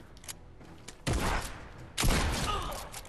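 Gunfire in a shooter video game comes as two loud, dense bursts about a second apart, each fading into a rumbling tail.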